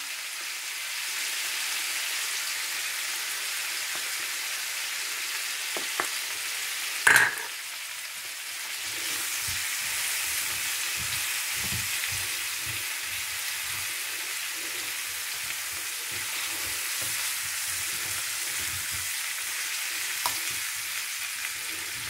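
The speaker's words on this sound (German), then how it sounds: "da kann Sie jetzt anbraten lassen." Chicken pieces and cauliflower fry in a hot pan with a continuous, even sizzle, broken once by a sharp metallic clank from the pan or a utensil.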